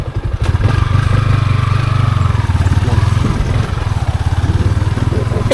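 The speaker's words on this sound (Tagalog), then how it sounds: "Motor lang kakadaan." A motorcycle rides along a narrow forest footpath, its engine a steady, loud, close chugging throughout with faint clatter, holding an even idle-like rhythm that dips slightly near the end.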